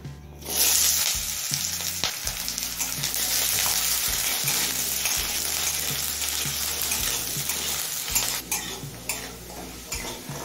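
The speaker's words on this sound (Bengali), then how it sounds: "তেলটা হাই ফ্লেমে গরম করে নিয়েছি। এবার ছোট টুকরো করে একটা বড় সাইজের আলু ভেজে নেব।" Small pieces of one large potato fry in oil heated on a high flame, giving a loud, steady sizzle with occasional stirring scrapes throughout, no voices.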